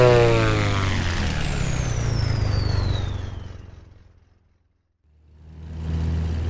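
Twin piston engines of a Black Square Duke in a flight simulator drone loudly with a thin rising whine, fade away to near silence around the fifth second, then rumble back up.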